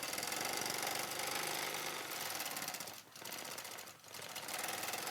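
A sewing machine stitches embroidery across a Lone Star quilt, its needle racing in a steady, dense mechanical chatter that runs almost continuously, with two brief dips as the stitching pauses or turns.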